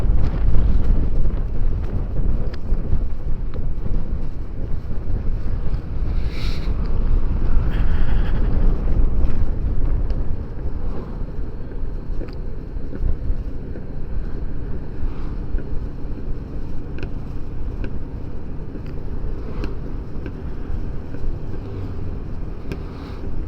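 A touring motorcycle coasts downhill on engine braking along a descending highway, with a steady, loud rush of wind buffeting the microphone and a low continuous rumble throughout, no voices.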